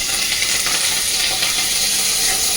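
Curry leaves hit hot oil for curd rice, giving a loud, close, continuous sizzle and spattering hiss that stays dense and steady throughout.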